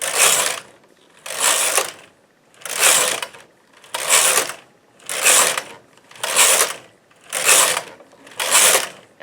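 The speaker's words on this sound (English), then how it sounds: "I'm knitting 8 rows." Hand-operated knitting machine knitting eight rows of yarn, the carriage sliding across the needle bed eight times in an even back-and-forth rhythm, each pass a loud rasping, ratcheting sweep separated by brief pauses.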